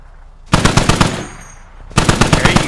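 Rapid bursts of automatic gunfire in the military shooter game Squad, two loud sustained volleys separated by a brief quieter gap, close and punchy.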